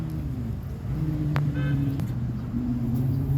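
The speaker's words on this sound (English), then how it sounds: "the McDonald's line is like 25 cars" A line of cars idling in a McDonald's drive-through, a steady low engine rumble with shifting idle tones up close, one brief squeak over it, continuous with no talking.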